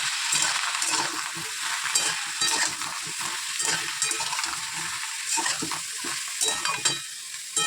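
Cut vegetables for a chorchori fry in a pan without oil as a spatula stirs them. Busy, continuous sizzling mixes with repeated close scraping and clattering strokes.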